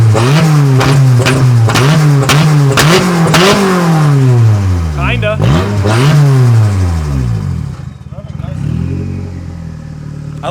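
A Nissan S14 with a very loud aftermarket exhaust revs hard several times in a row, the engine note climbing and falling in close, sweeping bursts. A brief voice is heard near the end.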